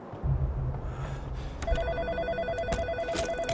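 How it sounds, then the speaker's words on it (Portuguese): A telephone rings in the horror video game In Sound Mind, a repeating electronic trill pulsing steadily and fairly loud over a low rumbling ambience, with no talk. "Vamos atender o telefone."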